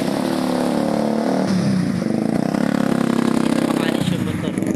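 A motorcycle engine stalled in flood water revving and sputtering close by, uneven rises and falls in pitch, with people talking over it.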